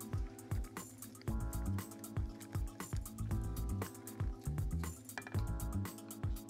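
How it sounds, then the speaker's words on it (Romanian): Water added to satay sauce while it is stirred, with a steady run of clinks from a utensil against a bowl or pot and some liquid sloshing, close up and at a moderate level. "Consistența se reglează cu apă."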